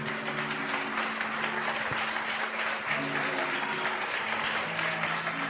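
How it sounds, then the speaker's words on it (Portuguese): Church congregation applauding steadily during a family worship service, a dense sustained wash of many hands clapping at moderate distance, with faint voices beneath. "se coloque de pé aplaudindo o Senhor"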